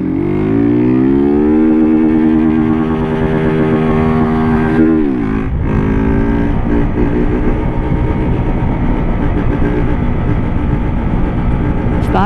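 A small Honda CG Start motorcycle engine idles loudly, then revs up sharply around the middle and keeps running with a rough, buzzing drone close by.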